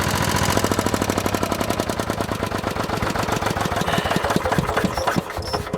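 A 1943 machine's engine running on after its fuel is shut off, a loud, steady rapid knocking of firing strokes that continues close up with no voices.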